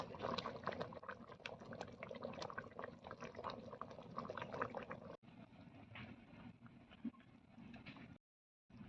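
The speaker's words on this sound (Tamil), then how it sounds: "கொதிச்சு நல்லா எண்ணெய் பிரிஞ்சு வந்துச்சு" Eggplant curry (ennai kathirikai kulambu) bubbling in a pot until the oil separates, a steady dense simmer with soft popping bursts, fairly faint, briefly dropping out near the end, with no talking.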